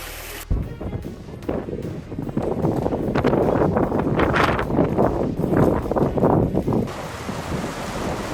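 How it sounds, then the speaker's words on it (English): Massive storm waves crash against an ice-covered lighthouse in freezing conditions, a loud continuous roar of surf and buffeting wind that swells and surges for several seconds. "massive waves roared into an ice-covered lighthouse"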